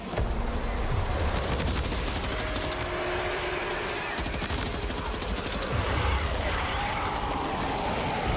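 A machine pistol fires in the video game Death Stranding 2, delivering sustained rapid bursts of loud, close gunfire that run almost without pause across the whole stretch, with brief mechanical clatter between volleys.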